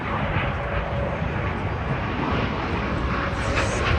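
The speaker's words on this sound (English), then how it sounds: "Now, on the roll, here comes Mix 17 PF" MiG-17F jet on its takeoff roll at the AERO Gatineau-Ottawa Airshow: a steady, moderately distant jet roar that holds evenly throughout without a clear build or pass.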